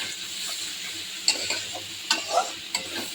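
Liver frying in a pan with a steady low sizzle, broken by a few sharp scrapes and clinks of a spoon stirring against the metal. No one speaks.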